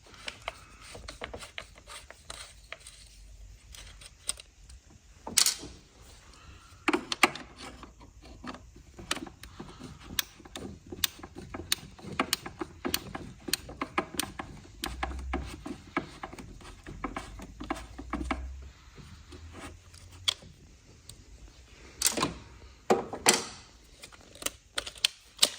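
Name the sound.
undoing T25 Torx screws on BMW N55 rocker cover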